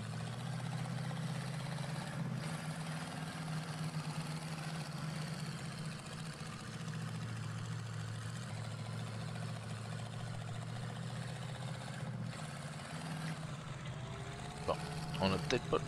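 Hummer H3 idling off-road in the truck game Spintires, a steady low engine drone throughout, fairly quiet, with someone talking in French over it.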